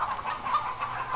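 A chicken clucking in a continuous, moderately close series of short calls with no talk over it.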